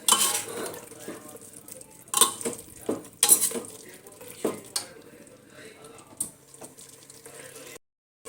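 A spoon stirs garam masala through mutton tahri in a metal pot, giving repeated scraping clanks and knocks against the pot over a faint sizzle, some strikes sharp and close.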